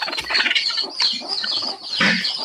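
A country hen sitting on her eggs clucks and squawks close by, several loud agitated calls in uneven bursts, with no talking.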